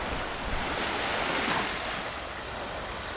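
Surf rolls onto Seven Mile Beach in the Cayman Islands, a steady close wash of breaking waves mixed with wind rumble on the microphone, with no voices.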